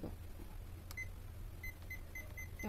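A home bread maker emits a short series of faint, high, evenly spaced electronic beeps as buttons are pressed to set a pizza-dough program, over a quiet kitchen hum with no talking.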